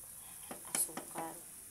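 Bananas frying in a pan for banana cue, a soft sizzle under a few quick scraping stirs and clinks of a utensil against the pan, close and fairly quiet.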